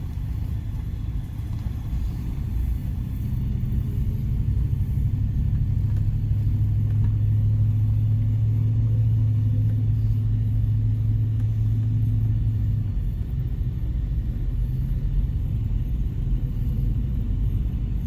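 A car rolling along a road past a body shop and a school in Tekoa, Washington, on Highway 27, its engine a steady low rumble that swells slightly mid-pass, heard alone without talk.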